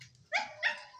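A pet dog, tied up outdoors at home, gives two sharp barks about a third of a second apart, fairly close and clear over quiet background.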